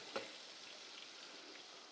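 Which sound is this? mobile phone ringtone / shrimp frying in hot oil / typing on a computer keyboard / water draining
shrimp frying in hot oil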